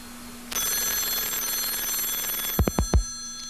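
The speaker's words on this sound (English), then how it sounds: "And your computer is ringing." A computer rings with an incoming telephone call on a retro e-mail and voice-message system, a steady electronic ring tone starting abruptly, followed by several sharp thumps or clicks near the end.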